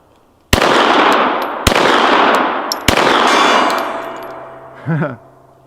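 Three sharp gunshots from a Glock 17L plastic gun fired at a target, each a loud close crack followed by a long ringing decay, with a brief voice at the end.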